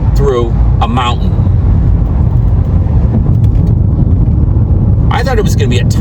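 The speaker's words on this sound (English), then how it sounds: "I'm driving through a mountain right now." A car cruises along a road through a mountain with a constant loud, low road rumble and engine drone. A person talks briefly at the start and again near the end.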